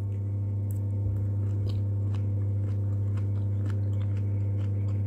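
Crunchy cooked broccoli chewed close to the mouth, a run of small crisp bites and crunches over a steady low hum.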